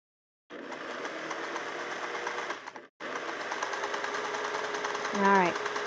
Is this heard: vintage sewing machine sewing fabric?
yes